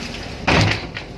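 A door on a Kerala houseboat slams shut in strong wind during heavy rain, one sudden loud nearby thud with a brief rattle, over steady rain and wind noise.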